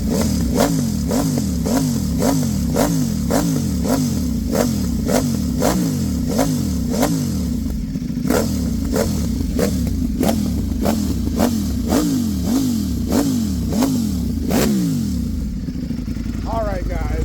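Loud, close 2025 Ducati Panigale V4 S fitted with an Akrapovic exhaust, blipped in a steady run of sharp revs that rise and fall over and over, each burst cutting off crisply, ending on one last rev.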